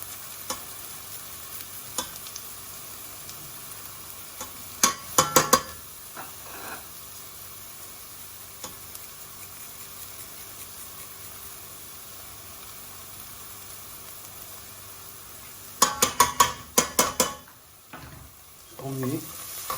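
Onion and garlic frying in oil in a pan, with a steady low sizzle throughout and a couple of short bursts of clattering stirring near the start and again toward the end, no voices.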